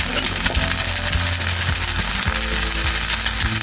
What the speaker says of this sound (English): now my onion is finished frying